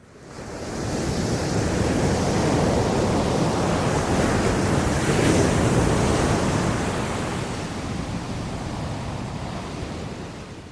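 Ocean surf rolls in as a broad, steady roar beneath cliffs, swelling slightly midway then easing off, loud and continuous with a windy rush and no voices.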